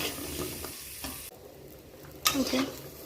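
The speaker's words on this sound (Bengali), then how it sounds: "পটলগুলোকে ঢাকা দিয়ে আস্তে একটু লালচে ভাবে করে ভেজে নেব" Pointed gourd (potol) fries in a covered pan and gets stirred, with soft sizzling and brief scraping stirs near the start. A louder burst of sizzle and clatter comes near the end.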